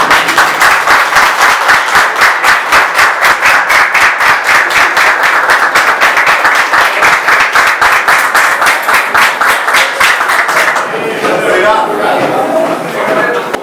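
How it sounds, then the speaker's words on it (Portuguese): An audience stands and applauds: loud, dense, sustained clapping for about ten seconds, then it cuts off into quieter crowd murmur and shuffling. "Que a gente levantasse e aplaudisse a presença desse pessoal e essa decisão dele."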